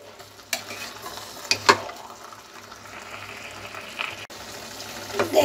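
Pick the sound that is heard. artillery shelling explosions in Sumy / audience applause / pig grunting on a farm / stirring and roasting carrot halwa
stirring and roasting carrot halwa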